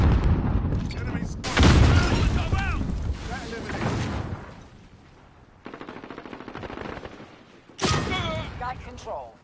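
A grenade explosion and bursts of gunfire in a video game hit hard twice with heavy, booming blasts, mixed with rattling shots. Voices talk over the combat in between.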